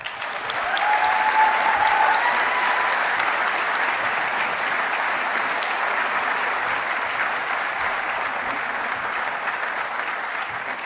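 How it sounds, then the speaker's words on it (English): A crowd at a high school commencement ceremony applauds scholarship award recipients in one long, sustained round of clapping that stays even and full for about ten seconds. "Can I have one more round of applause for all of our award recipients today?"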